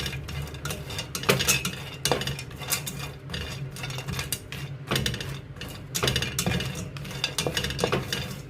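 A spoon stirs dry ingredients for homemade protein powder in a steel pan, a steady run of close scraping and metallic clattering with no talk.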